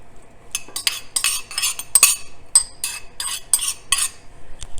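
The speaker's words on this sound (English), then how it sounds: "We're gonna stir in our green peppers that we cut up." A spoon scrapes and clinks against a baking dish as chopped green peppers are stirred into saucy baked sweet and sour turkey, in a run of short, close metallic strokes.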